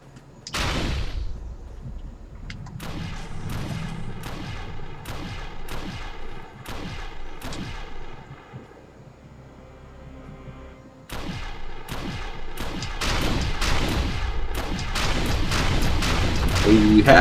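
A mass cannon fires in the shooter video game Defiance, loud repeated booming shots in a fast regular rhythm, pausing briefly before resuming in a denser volley, close and dominant.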